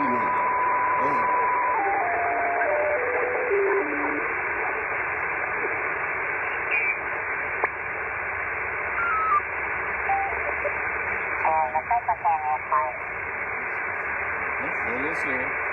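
An amateur radio receiver tuned across the 20-meter band, roughly 14270 to 14290, gives steady hiss and static with sweeping whistles and heterodyne tones, plus brief bursts of faint distorted voices drifting in and out.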